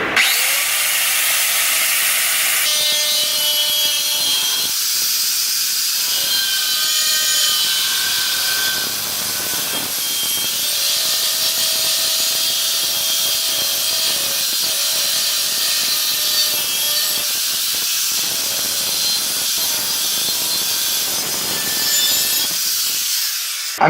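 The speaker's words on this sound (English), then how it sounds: "I'm gonna play a few clips of this angle grinder cutting." Bosch blue 125mm angle grinder cutting, a loud, continuous high-pitched whine with a harsh abrasive edge that holds steady for the whole stretch, with slight shifts in pitch as the disc works the cut.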